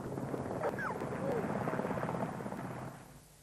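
Mountain rescue helicopter over the Cairngorms hills, a steady broadband rotor roar held at moderate level for several seconds before easing off, with faint voices in the mix.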